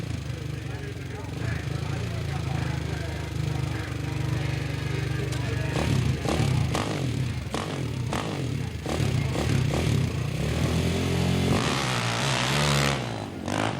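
KTM 580 motorcycle engine revving hard while climbing a hill at a pro hill climb event, a steady loud droning roar with rising and falling surges, heard under an announcer's commentary.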